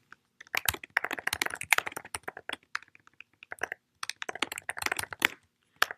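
Keys clatter in quick, irregular bursts of typing on a computer keyboard, close and clear, with short pauses between runs while entering text for a web page layout.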